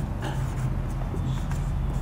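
Pen scratching steadily across paper during a lesson on electrical instruments, close and fairly loud with a low background hum and no talk.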